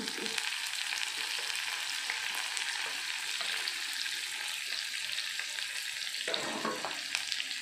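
White spice paste for Sundanese yellow rice frying in a pan over medium heat, a steady close sizzle with occasional stirring scrapes and no voices.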